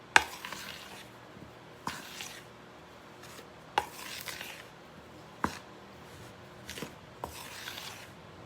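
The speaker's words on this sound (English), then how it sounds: "I'm going to stir them around" Strawberries being stirred in a bowl for strawberry biscuits, with quiet, close scraping and shuffling strokes repeating at intervals of about a second or two, each opening with a small tap against the bowl.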